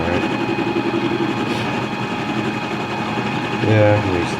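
A lathe spins up while machining a primer cannon, a steady droning motor whine holding close and loud throughout, with a brief knock and rise in pitch near the end.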